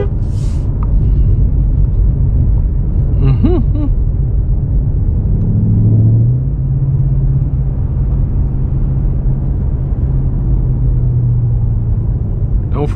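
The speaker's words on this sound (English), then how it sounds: "I just want y'all to hear that V8." A 2025 Ford Mustang Dark Horse V8 idles with a deep, loud, close rumble throughout, with a brief rise in pitch midway, then settling back.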